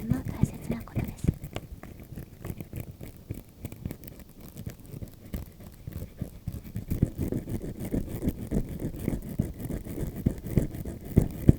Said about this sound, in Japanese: ゆっくり的確に歯ブラシを歯に当てて磨く。